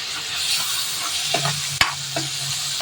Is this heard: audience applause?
no